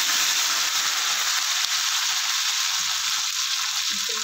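Ginger and garlic paste sizzling steadily in hot oil with cumin for a Maharashtrian dal fry tadka, a dense, continuous close-up frying hiss with no voices.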